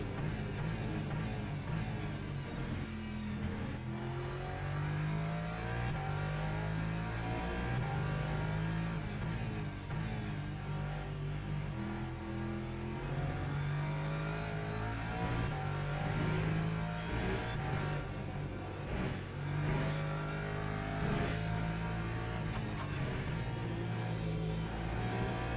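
Porsche race cars at Le Mans: a continuous engine drone whose pitch climbs and falls as the cars accelerate and shift gears, steady and fairly loud throughout.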